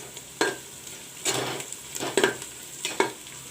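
Spices and green chilies frying in a pan, a steady hiss punctuated by four sharp sizzling bursts as they are stirred or added, close and loud with no talking.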